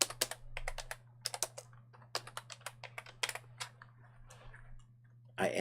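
Quick bursts of typing on a computer keyboard, crisp close key clicks in irregular clusters over a steady low electrical hum, with no talk.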